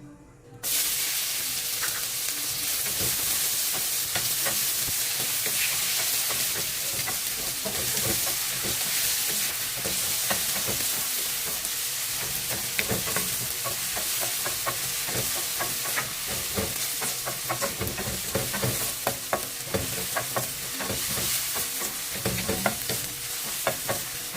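Onion sizzling in a hot frying pan, a steady loud hiss with frequent crackles and the scrape of stirring running throughout, no voices.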